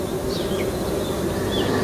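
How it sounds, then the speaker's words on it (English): A colony of Japanese honeybees buzzing, a dense continuous drone from many insects, steady and fairly close, with no voices. "These are Japanese honeybees, by some standards one of nature's most complex insect societies."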